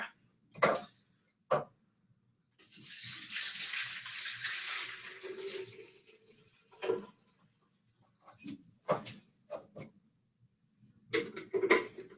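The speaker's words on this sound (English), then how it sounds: "I'm going to fill that up and turn on my humidifier." Water pours from a jug into a humidifier in one long splashing stream, set between scattered clunks and taps of handling, with no voices.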